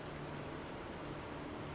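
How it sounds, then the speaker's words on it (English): Steady rain in the survival game Planet Crafter, a soft, even hiss of falling water that stays constant throughout with no other sounds on top. "maybe if the rain lasts long enough"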